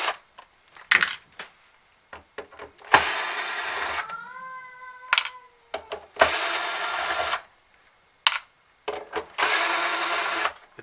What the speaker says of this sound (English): we have to remove all the screws here